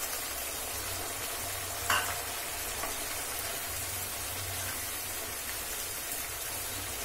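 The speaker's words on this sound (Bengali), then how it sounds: "এবার চিংড়ি মাছটা দিয়ে দিচ্ছি।" Prawns sizzle in a hot pan for spicy kosha chingri, a dense steady frying hiss close by, with one brief scrape or clink near the start.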